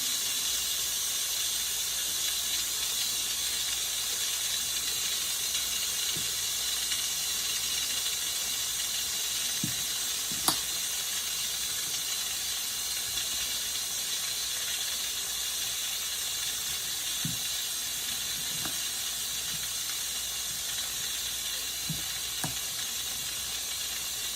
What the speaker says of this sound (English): put a rag over the top so I don't get burnt, and the steam goes into the rag